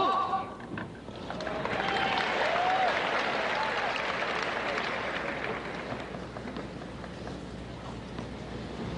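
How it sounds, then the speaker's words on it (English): Crowd applause from spectators at a 1982 US Open tennis match between Connors and Lendl, a broad sustained wash of clapping that swells early and fades slightly toward the end, with faint voices mixed in. "And that's the reason for the applause."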